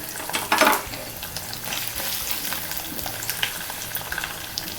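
Fenugreek, chana dal, urad dal, mustard seeds and ginger fry in hot oil, a close crackling sizzle with a brief burst of spattering near the start, then steady frying with light stirring scrapes.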